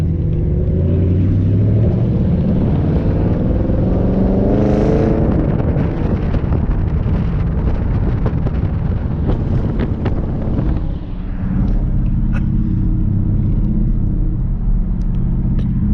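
A car engine roars loudly and revs up, rumbling close with some wind buffeting the microphone, then settles into a steady idle.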